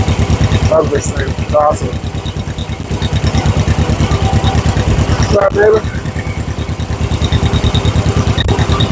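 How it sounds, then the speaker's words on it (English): A 1956 John Deere 420 tractor engine runs at a steady, loud idle with an even chugging pulse throughout. Someone talks casually over it. "Yeah, that's a good running tractor."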